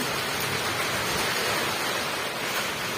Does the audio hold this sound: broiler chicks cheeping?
no